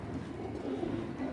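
Pigeons coo on a rooftop in Sialkot, soft repeated low throaty coos rising mid-way over a constant faint outdoor background, with no speech.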